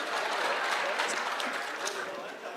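A crowd at an outdoor public security forum in Migori Town, Kenya, claps in sustained applause, a dense even patter of many hands heard from a distance that fades slightly toward the end, with a voice over it.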